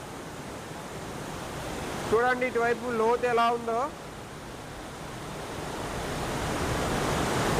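River water falls and rushes through a dangerous cave, a steady broad roar filling the whole stretch, with someone talking briefly over it in the middle.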